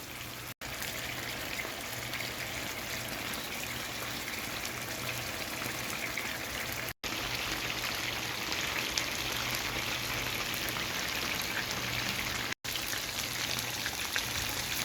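Marinated chicken leg pieces frying in a pan of hot oil, giving a dense, steady crackle and spatter that carries on without pause, close and fairly loud, with no talking.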